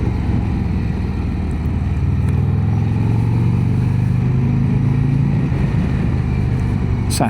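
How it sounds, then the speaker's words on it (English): A new motorcycle with its stock exhaust runs at a steady mid-pitched drone outdoors, a continuous engine note with a slight rise in revs partway through, fairly close to the listener. "It doesn't sound too bad, you know. This is stock exhaust."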